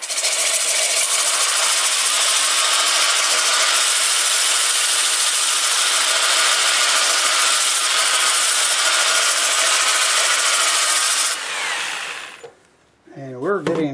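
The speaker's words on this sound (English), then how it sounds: "I've got some 80 grit here. I'm running in reverse at about 420 RPMs." Fresh-cut English walnut spins on a lathe in reverse at about 420 RPM while 80 grit sandpaper rasps against it, a loud continuous gritty hiss that cuts off near the end, followed by brief talk.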